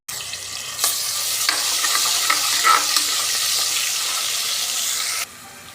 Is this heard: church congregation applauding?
no